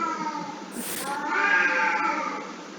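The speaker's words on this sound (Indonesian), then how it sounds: "Kucing yang malah kelahi ya," Cats fighting nearby, a loud drawn-out caterwauling yowl rising and wavering, with a brief hiss-like burst near the start.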